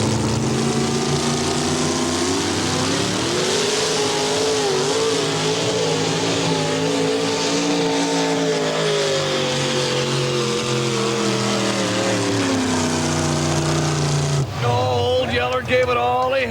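A 6,200-pound class four-wheel-drive pulling truck roars at full throttle through a 1990 NTPA truck pull run at Canfield, Ohio, the engine loud and sustained, its pitch rising and wavering before dropping off near the end.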